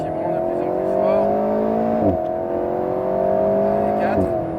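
Alpine A110 S sports car accelerating hard around the Le Mans Maison Blanche circuit, heard from inside the cabin: a steady engine note climbs through the revs with a brief gear change partway, loud and continuous under a speaking voice.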